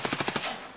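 Escape From Tarkov gunfire: five rapid automatic shots in a quick, evenly spaced burst, loud and close, fading into a short tail.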